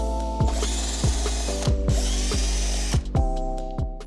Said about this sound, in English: now we need to remove those 6 hex screws from the rim